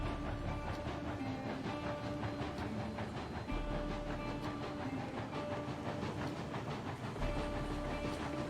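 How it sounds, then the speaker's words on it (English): Steam locomotive in the train game Railroads Online rolling steadily along rails, a dense continuous rumble with rhythmic chuffing and clicking of wheels, heard fairly close with no voices. "Locomotive. It's very powerful."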